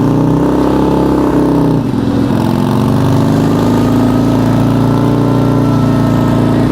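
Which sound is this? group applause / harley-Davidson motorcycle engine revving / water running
harley-Davidson motorcycle engine revving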